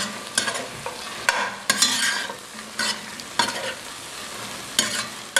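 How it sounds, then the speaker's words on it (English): Tofu stirred into a hot pan with tomatoes, sizzling steadily while a utensil scrapes and knocks in several distinct strokes, close and moderately loud with no voices. "And now I'm going to add the tofu."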